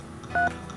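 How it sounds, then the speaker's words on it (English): A single short telephone keypad dial tone beeps in a Nancy Drew video game, a brief clean electronic tone standing out against a quiet background hum. "let's go make some phone calls"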